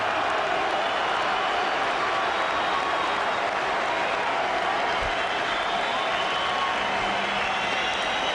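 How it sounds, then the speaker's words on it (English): A boxing arena crowd at a women's boxing event applauds and cheers in a dense, sustained roar that stays steady throughout. "And unbeaten Layla, and the crowd had already gone crazy for Layla's dad."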